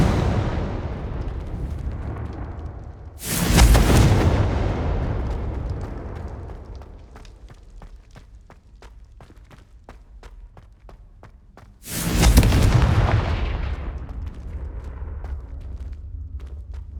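Two loud, booming blasts from the Confringo fire spell ring out in the Hogwarts Legacy video game, each decaying slowly into rumbling reverb, with footsteps and small clicks between them.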